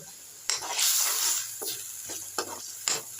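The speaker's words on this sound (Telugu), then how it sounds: "ఆనియన్స్ బ్రౌన్ కలర్లో వచ్చేంత వరకు ఫ్రై చేయండి. ఆనియన్స్ బ్రౌన్ అయిన తర్వాత టమాటా క్యూరీ వేసేయండి." Onions fried brown, then tomato curry base and spices added to the pan, sizzle and hiss while a spoon stirs and scrapes in several short strokes, moderately close, with no talk.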